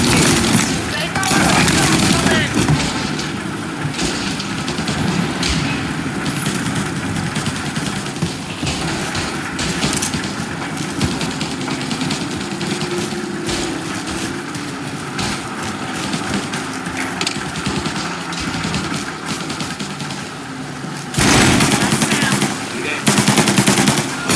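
Sustained machine-gun and rifle fire rattles loud and dense through a shootout in the game Mafia: Definitive Edition, with voices shouting over the gunfire and a sharp final flurry near the end.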